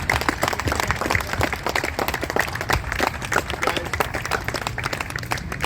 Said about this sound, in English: Everybody just give a round of applause.